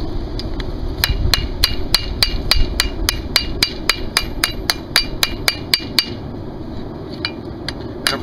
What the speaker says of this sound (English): start working the small hammer